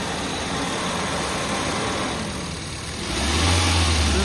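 A petrol engine in a 2009 Maruti Suzuki Wagon R VXI revs up toward 2000 RPM, a steady close mechanical drone that swells into a louder, deeper hum near the end, with no voices.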